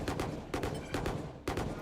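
Rapid gunfire from a Hero Vandal in a Valorant esports match, four sharp bursts about half a second apart, loud and close with a dense crackling tail.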